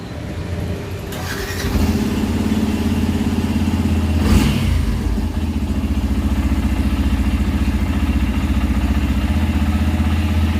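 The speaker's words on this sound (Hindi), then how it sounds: "अब हम बाइक को करते हैं स्टार्ट" A Yamaha FZS-V3 motorcycle with a faulty speed sensor cranks and catches, then settles into a steady, loud idle that runs on continuously, close by.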